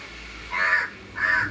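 A crow gives two harsh, loud caws in quick succession, close by and alone with no talking around it.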